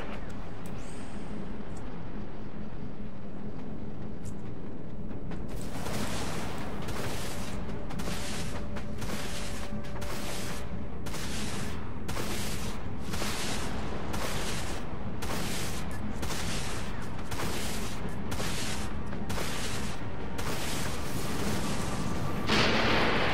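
Warship artillery support fire in the space combat game Dreadnought, a steady run of heavy, rapid booming shots over a constant low engine rumble, continuing loud and close for most of the stretch.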